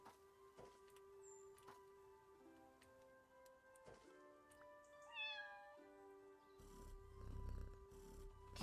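A cat meows a few times in Fresh Start Cleaning Simulator, short rising calls over a steady ticking clock and faint purring, with a low rumble toward the end.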